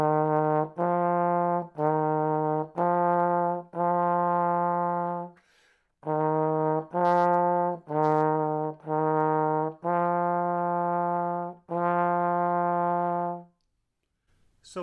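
A trombone plays slurred lip slurs between third and first position, with faster buzzing, in repeated sustained notes alternating higher and lower in pitch, close and solo with brief breaths between phrases.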